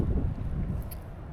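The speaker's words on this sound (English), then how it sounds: "I hope you guys can hear me okay because it is very, very windy" Strong wind buffets the microphone in a continuous low roar, rumbling and gusting throughout with no clear voices.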